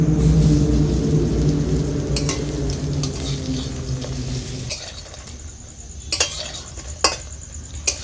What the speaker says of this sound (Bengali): বাকি বড়াগুলো ভেজে নেব